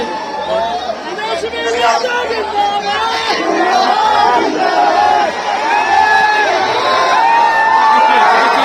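A large, dense crowd shouts and chatters continuously at an outdoor gathering awaiting Tejashwi Yadav's helicopter, with overlapping raised voices and cries close by throughout.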